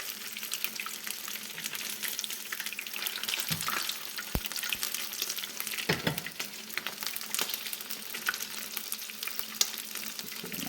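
Coconut shrimp frying in hot oil, a dense continuous crackling hiss, fairly faint and steady, with a few brief knocks as pieces are turned and no talk.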